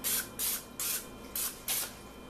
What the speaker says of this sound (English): spray the tops of them